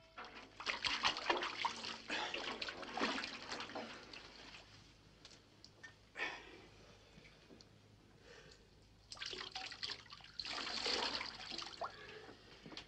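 Water splashes and pours in uneven bursts as a dog is scrubbed and rinsed, the sound fairly quiet and close, with short pauses between surges and no clear talk.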